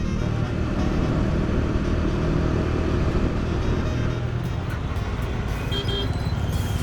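Dense road traffic on a diverted route between Daman and Mumbai, cars and motorcycles making a continuous close rumble of engines and tyres, with a few faint higher engine tones near the end.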